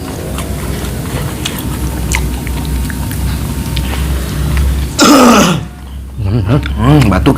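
Harsh throat clearing and coughing after choking on fish while eating spicy octopus sambal with raw vegetables, one loud rasping cough burst after chewing sounds, with someone talking nearby.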